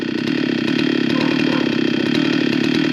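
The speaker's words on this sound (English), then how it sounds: "here they're cutting it into planks with the chainsaw" A chainsaw cutting a log into planks runs steadily at high revs, a loud, close buzzing whine with a slight pulsing flutter as it cuts continuously.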